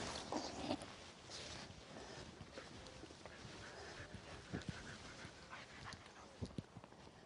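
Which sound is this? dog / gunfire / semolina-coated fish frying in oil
dog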